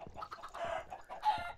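Minecraft chickens give a few short, clipped clucks in quick succession inside the blocky survival game, close and fairly quiet with no talk over them.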